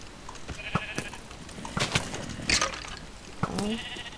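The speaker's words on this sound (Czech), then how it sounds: "Kam zmizla ta pitomá ovce, pojď sem." Sheep in a Minecraft game bleat several times in close, loud bursts spread across a few seconds, with faint clicking between calls.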